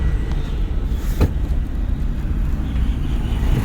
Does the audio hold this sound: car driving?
yes